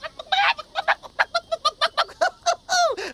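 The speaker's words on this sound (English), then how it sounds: "Now look at that funny little chicken." A chicken clucks in a quick series of close, loud bursts, ending with a longer squawk, with no talking over it.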